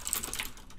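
Quick clicking of a computer keyboard as code is typed, a brief run of soft, close keystrokes.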